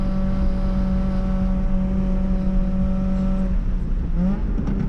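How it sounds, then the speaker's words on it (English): Race cars, Honda Fits and a Kia Rio running on Hoosier tires in a Gridlife TrackBattle heat, a continuous droning engine hum with a steady whine that shifts pitch near the end as a car changes speed. "So a few cars rolling around here,"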